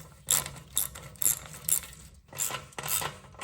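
A wrench tightens a 13 mm exhaust header bolt on a Royal Enfield Himalayan, giving a run of five or six quick metallic clicks of a ratchet, close up and evenly spaced.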